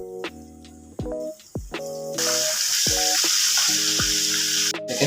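Calamari frying in hot oil sizzles loudly and continuously nearby, with a broad hiss rising partway through as more pieces go in, punctuated by clinks and tonal utensil strikes against the pan.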